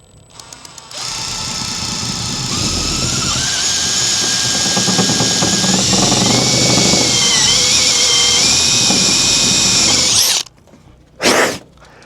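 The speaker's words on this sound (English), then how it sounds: "we're just going to drill straight down into the center of that pilot hole" Power drill driving a step bit through a box truck's roof at a pilot hole. It runs loud and steady for about ten seconds with a grinding whine, then stops, followed by one short burst.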